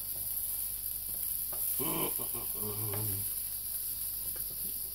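Breakfast food, real meat and vegan meat substitutes, sizzles steadily in a frying pan with a constant broadband hiss, close up, while a few faint clinks and bubbling pops rise briefly in the middle.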